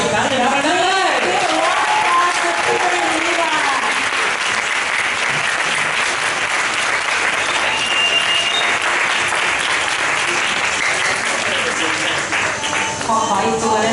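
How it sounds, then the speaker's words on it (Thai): Loud, sustained audience applause for Dr. Peter and Eva Mueller-Meerkatz at an ambassador event, dense clapping filling the room throughout, with a voice speaking briefly near the start. "ขอเสียงปรบมือดังๆนะครับให้กับปีเตอร์ดีวาอีกครั้งหนึ่งครับ"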